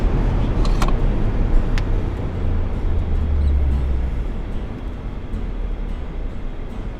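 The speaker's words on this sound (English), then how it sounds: "And apply strong braking pressure to get down to 5." A Toyota 4Runner on the road brakes hard to bed in new brake pads, a steady low rumble of tires and drivetrain that deepens and slows as the truck decelerates, with faint clicks and no talk.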